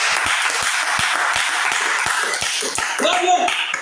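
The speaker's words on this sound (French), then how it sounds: "On acclame ça." A church audience breaks into applause, a dense spread of clapping with a few sharp, evenly spaced claps standing out, and a voice calls out over the crowd near the end.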